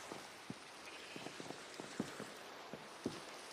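Minecraft rain falling as a steady, even hiss with scattered soft droplet pops, moderately loud and with no voices.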